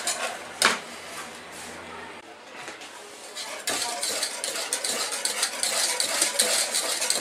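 Swiss meringue of egg whites and sugar stirred in a pot over very low heat, a continuous scraping and swishing with occasional utensil clinks against the metal, growing louder and busier midway.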